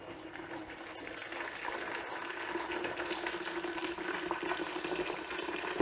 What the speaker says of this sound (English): And now I'm going to pour in some hot water.